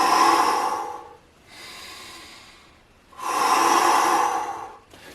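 Deep breaths during a shoulder exercise: a long, breathy inhale, a quieter exhale, then another strong inhale, close and airy, with no talking.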